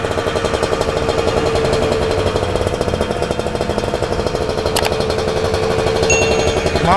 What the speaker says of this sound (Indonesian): Ini suara dari knalpot Corse Project original ya